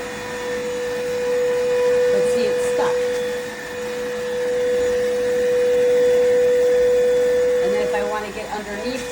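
A cordless iwoly C150 stick vacuum cleaner runs with a steady high-pitched motor whine and airy suction roar, rising and dipping slightly as it is moved across the floor.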